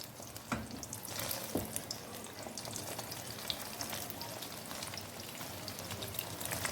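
Food frying in a pan over a medium flame for Chinese-style biryani, a steady dense crackle with scattered sharper pops and spits, moderately close and continuous, no talking.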